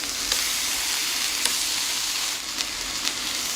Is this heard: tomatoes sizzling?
yes